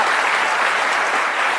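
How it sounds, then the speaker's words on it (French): Audience applause and cheering in an ovation for Ferré Gola on a television talk show, a dense, steady wash of clapping filling the whole stretch at even loudness. "Ovation pour Ferré Goula."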